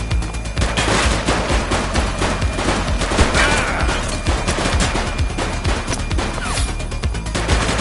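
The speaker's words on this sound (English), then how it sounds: "Shots fired!" Dense, sustained gunfire from a police shootout in the video game The Precinct, rapid overlapping shots and bursts filling the whole stretch at close, loud range with barely any voice.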